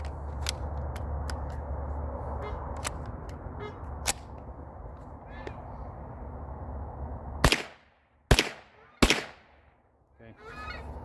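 A Glock 9mm pistol fires three rounds loaded from an OEM magazine, sharp loud reports in quick succession following a stretch of outdoor background noise with several earlier faint clicks.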